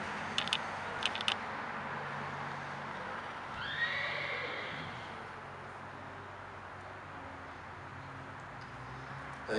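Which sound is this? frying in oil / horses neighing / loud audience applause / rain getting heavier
horses neighing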